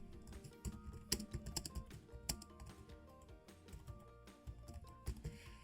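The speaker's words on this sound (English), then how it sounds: "So as I type," Typing on a computer keyboard, quiet and close, with quick irregular bursts of key clicks and a few louder taps over soft tonal background music.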